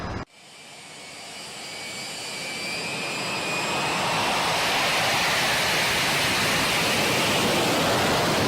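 A jet engine's roar builds steadily from a sharp start into a loud, sustained broadband rush, with thin high whining tones that fade early on.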